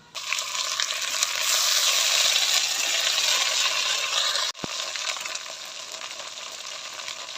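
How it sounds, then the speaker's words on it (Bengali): A ground spice paste of ginger, cumin and coriander, with chili and turmeric powder, sautés in a pan for a boal fish curry. It gives a loud, steady sizzle that cuts out abruptly midway, then resumes slightly softer. "চামচ মরিচের গুঁড়া, চামচ হলুদের গুঁড়া, ভালো করে মশলাটা কষাই নিব"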